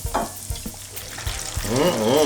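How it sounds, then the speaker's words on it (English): Camembert cheese snacks deep-frying in hot oil until crispy brown, a steady close sizzle with a few light knocks early on, and a voice rising over the bubbling near the end. "we'll just fry these until they're crispy brown on all sides"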